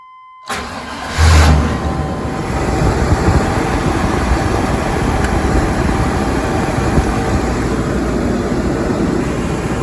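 A 1998 Chevy full-size pickup engine cranks and catches after sitting about four weeks, then settles into a steady, loud idle that runs on without a break.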